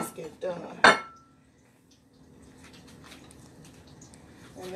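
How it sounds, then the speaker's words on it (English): A plate clinks against other dishes in a home kitchen during breakfast cooking, with a sharp cluster of clatter near the start, then quieter faint kitchen rustling. "I'm going to get my plate out"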